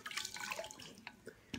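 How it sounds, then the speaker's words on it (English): Water running from a tap while a face is rinsed, a faint splashing trickle with a few brief drips and splashes, quiet and close. "Rinse your face with warm, lukewarm water."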